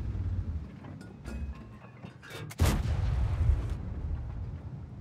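A tank gun fires once in World of Tanks, a deep booming blast with a rumbling tail that lingers for a couple of seconds. Lighter clicks and game ambience come before it.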